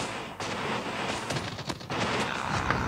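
Rapid, dense automatic gunfire from the BY15 in the video game Call of Duty Mobile, firing in continuous bursts with layered shots and impacts and no pauses.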